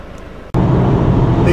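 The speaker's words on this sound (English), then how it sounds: "The Corolla is an excellent highway cruiser." A 2015 Toyota Corolla with a CVT cruising on the freeway gives a steady, loud cabin roar of road and wind noise that starts abruptly after a brief quieter moment and holds for the rest of the clip.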